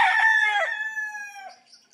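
A rooster crows once, loud and close, at a game farm in Bauang, La Union, the call holding steady and then trailing off, with a faint cluck at the very end.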